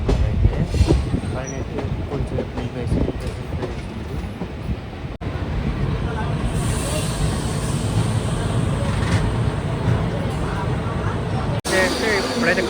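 A passenger train rolls slowly into Kacheguda station, its steady rumble and wheel clatter continuous and close, with metallic squeal from the wheels; people talk over the train noise throughout.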